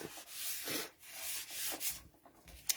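A tool rubs back and forth over a layer of stamped paper laid on cardstock, giving soft, close scraping strokes in an uneven rhythm with brief pauses between passes.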